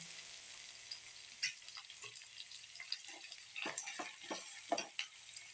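Onions frying crisp in a pan for a pizza dosa, a soft steady sizzle with scattered stirring scrapes, fairly quiet.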